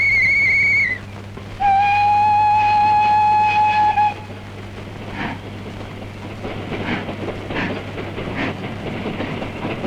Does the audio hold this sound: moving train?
yes